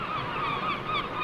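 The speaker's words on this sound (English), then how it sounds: "Seagulls, we like seagulls." Seagulls call at a seaside setting, a short close burst of honking, wavering cries over a steady background wash.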